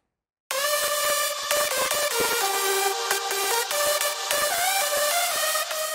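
Three layered synth leads from a hardstyle track, grouped with reverb for room and character, playing a bright, dense sustained melody with rhythmic stabs, loud and alone after a brief silent start.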